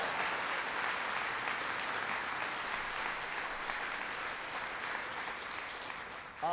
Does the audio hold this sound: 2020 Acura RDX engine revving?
no